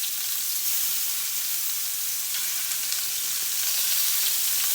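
Scallops sear in a very hot oiled pan, giving a loud, bright, unbroken sizzle and crackle of spitting oil that holds steady throughout.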